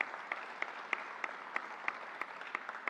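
Audience applause at an Andrew Cuomo event honoring New Yorkers who died from COVID, with steady mid-distance clapping and recurring sharper claps standing out at regular intervals, no voices.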